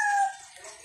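A fighting rooster (gamecock) on a farm lets out a brief, loud, high crow that fades quickly within a second, alone and close.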